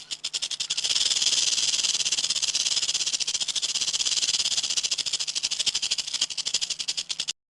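A rattlesnake buzzing its tail rattle with a hissing edge, a fast continuous rattling drone, loud and close, swelling briefly then fading into separate pulses before stopping.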